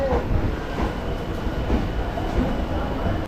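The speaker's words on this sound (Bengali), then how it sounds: "এক নম্বরে আমাদের ট্রেন ঢুকছে" A train on the Kolkata Circular Railway pulling into platform one at Birodhibag station, a steady close rumble of wheels and carriages rolling in continuously with faint clatter, no talk.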